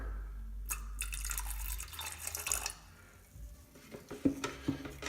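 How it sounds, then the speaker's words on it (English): Water poured from a tap into a paint tray to thin paint, a short close splashing gush followed by scattered drips and light clinks of the tray, fairly quiet with no talking. "So I'm just gonna add a little bit of water."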